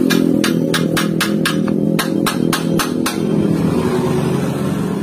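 A hammer taps the eSAF frame of a Honda Genio motorcycle, about ten sharp, ringing metallic knocks in two quick rhythmic bursts, close and loud over a steady low engine-like hum.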